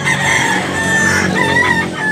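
Roosters crow and cluck up close at a gamecock market in Tabunok, Cebu, with overlapping calls filling a short, busy stretch.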